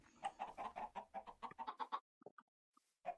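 Minecraft chickens cluck in a quick run of short, close, clipped calls in a chicken farm, followed by a brief pause and a few scattered clucks, with no talking.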